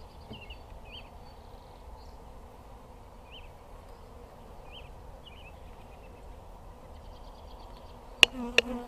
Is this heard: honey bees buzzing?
yes